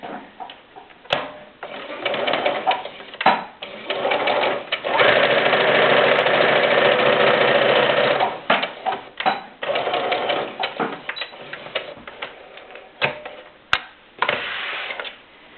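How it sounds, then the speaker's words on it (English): A sewing machine stitches a French seam half an inch from the fabric edge in stop-start bursts of rapid mechanical whirring, with one long continuous run in the middle, close up. "I'm going to sew 1/2 inch."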